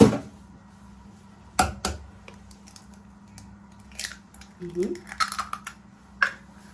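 Room-temperature eggs are cracked into cake batter, giving a few sharp cracks and taps against a bowl alongside light clinks and shuffling, with no voices, in a home kitchen making a mock gâteau au chocolat.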